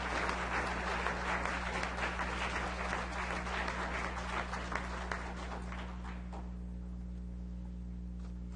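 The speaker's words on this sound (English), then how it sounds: "Give him a round of applause." Applause from the audience at a city council meeting, a room full of people clapping steadily for several seconds over a constant low electrical hum, then fading out to leave only the hum.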